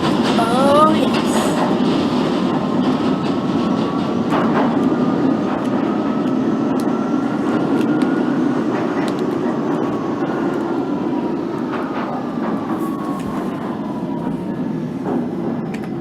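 A London Underground Central Line train in a simulator runs through a sharp bend approaching Liverpool Street, a steady rumbling roll with faint squeals and clicks, continuous and moderately loud.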